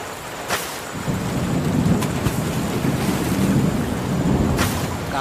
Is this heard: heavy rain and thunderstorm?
yes